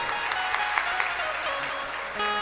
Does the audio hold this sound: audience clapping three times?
yes